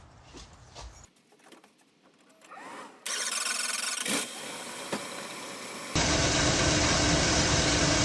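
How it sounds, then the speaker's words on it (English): A car engine cranks and catches, then idles steadily and loudly after a thermostat, gasket and housing repair, with a rise to a stronger, fuller idle partway through; quiet handling noises come before the start. "I'm going to turn the vehicle on and let it run for a little bit"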